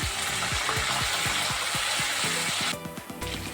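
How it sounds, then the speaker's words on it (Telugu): Curry leaves and coriander crackle and sizzle loudly in hot oil for raw mango chutney, with a rhythmic series of spoon scrapes and stirring knocks running under the continuous frying hiss. "అందులోనే కరివేపాకును కూడా యాడ్ చేసుకోండి. కొత్తిమీరకాయలని ఈ విధంగా తుంచి వేసుకోండి. వేసి ఒకసారి బాగా మిక్స్ చేయండి."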